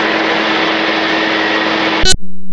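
A Calidus autogyro engine drones steadily at about 5,200 RPM in flight, a loud, constant buzzing roar that cuts off abruptly near the end.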